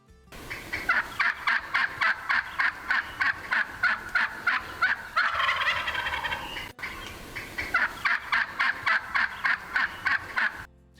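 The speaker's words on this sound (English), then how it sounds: "this is what turkeys sound like" Wild turkeys gobble and yelp in a loud, close recording, with rapid rhythmic bursts in two long runs separated by a brief raspier call, and no voices.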